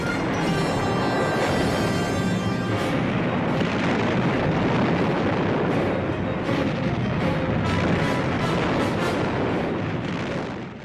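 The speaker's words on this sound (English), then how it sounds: "Penguin's guns opened up. The British cruiser returned fire." Heavy naval gunfire as the British cruiser Cornwall trades fire with the raider Penguin, a continuous roar of booming salvos and rumbling explosions, loud and unbroken.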